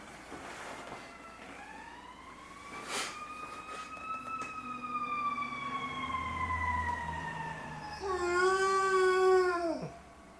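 A dog howls in long, rising and falling drawn-out tones, swelling louder toward the end before breaking off, heard close in an indoor podcast setting with no one talking.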